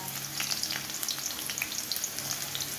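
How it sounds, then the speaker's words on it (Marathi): Chopped onion and garlic frying in a pan, a close, bright, continuous crackling sizzle with light stirring throughout. "याला आपण मिक्स करून घेऊ कांदा लसूण लाल होत तोपर्यंत"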